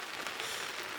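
Rain falls steadily in a forest, a soft, even patter and hiss on leaves and surfaces, continuous for a brief moment with no voices.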